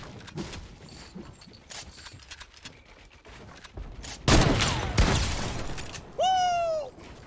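Gunfire in Fortnite Battle Royale, scattered shots building to loud blasts near the middle, followed by a rising electronic whine-like effect, with excited voices faintly mixed in.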